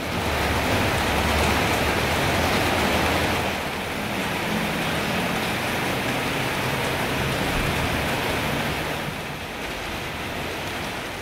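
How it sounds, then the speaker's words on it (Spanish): Steady rain pours down outdoors after a shopping trip, a dense, continuous hiss of drops with a slight dip in loudness partway through and no voices. "apenas alcancé a llegar a mi casa porque enseguida empezó a llover"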